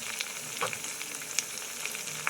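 Garlic paste and green chili paste frying in a pan for chicken chana, a short, faint, even sizzle with small crackles.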